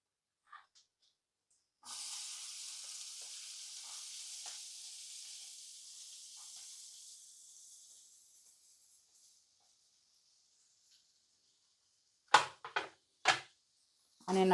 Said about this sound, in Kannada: ಆನಿಯನ್ ಹಾಕ್ಕೊಂಡು ಇವಾಗ ನಾವು ಫ್ರೈ ಮಾಡಬೇಕು